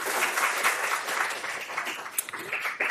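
Audience applause at a university PhD defence talk on ribosome assembly, a steady dense wash of many hands clapping throughout, fairly loud and close, with a few sharper individual claps standing out near the end.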